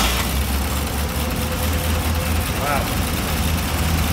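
A 1932 Buick Picnic Car engine idling, a steady close mechanical drone with a low throb, and a voice briefly exclaiming over it.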